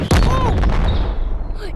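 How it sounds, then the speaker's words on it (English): Missiles launched by a robot in a video game: a sharp, loud explosive burst followed by whooshing, fading rocket sounds and trailing booms, with a voice exclaiming over it. "I've got missiles! Oh, I can still fire."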